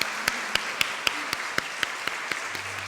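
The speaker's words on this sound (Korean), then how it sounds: "뜨거운 박수로 축하해 주시기를 바랍니다." At an Easter Sunday family worship service in a Korean church, the congregation celebrates a baptism with sharp, evenly spaced claps in a steady beat over a soft wash of crowd clapping.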